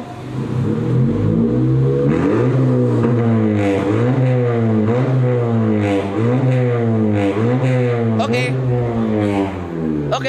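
Modified Honda Civic FK4 turbo hatchback engine revved repeatedly to high RPM, loud rising and falling revs in a steady rhythm, close by with faint voices in the background.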